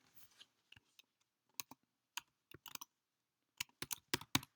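Scattered clicks of keys on a computer keyboard, typed in short irregular bursts with quiet gaps, close and fairly soft.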